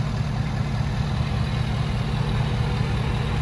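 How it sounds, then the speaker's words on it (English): A diesel pickup truck with a 5-inch DPF-back exhaust idles nearby, a steady, deep, continuous rumble with no variation and no talking. "I did add a 5-inch DPF back exhaust on it."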